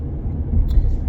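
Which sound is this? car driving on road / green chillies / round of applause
car driving on road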